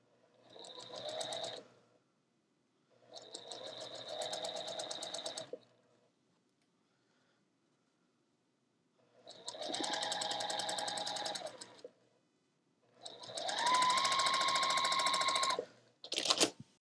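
A sewing machine stitching pieced quilt block units, four bursts of fast, even whirring stitches of a couple of seconds each, separated by quiet pauses, close and clear.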